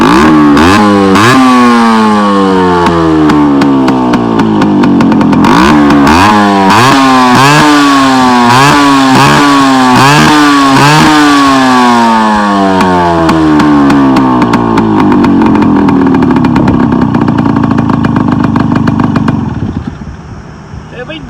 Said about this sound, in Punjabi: ਇਹ ਆਵਾਜ਼ ਚੈੱਕ ਕਰਾਉਣੇ ਆਪਾਂ ਇਹਦੀ ਮੋਟਰਸਾਈਕਲ ਦੀ